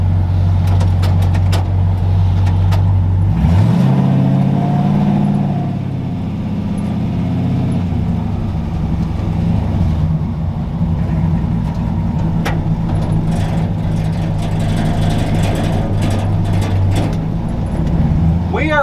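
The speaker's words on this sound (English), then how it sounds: "in a 66 Ford pickup truck with a 392 Hemi and a built 46RE Cope racing transmission" A 1966 Ford pickup swapped with a 392 Hemi V8 and a built 46RE racing transmission rumbles loudly from inside the cab, with a deep revving rise early on before settling into a heavy idle, while people talk over it.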